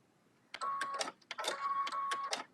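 A sewing machine stitches a whirligig quilt block, running in two steady whirring bursts with a short pause between them. The motor whine is close and fairly loud, with no talk over it.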